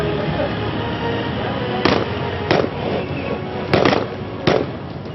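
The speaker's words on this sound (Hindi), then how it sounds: "चंद पलों बाद एक धमाका और काम खत्म।" Indian Air Force Garud commando operation: four sharp, loud bangs land about a second apart over a steady noisy background, with a voice talking underneath.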